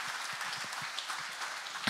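Applause for a rally team member at a Toyota Gazoo Racing Baltics Dakar 2024 presentation, a steady patter of clapping from an indoor audience at moderate distance, continuous and fairly soft throughout.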